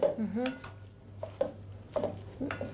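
Food being stirred and mixed in a kitchen pot, with a utensil scraping and clinking against the metal in short irregular strokes, close by, with a faint sizzle underneath.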